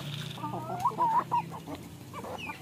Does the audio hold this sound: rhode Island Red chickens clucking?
yes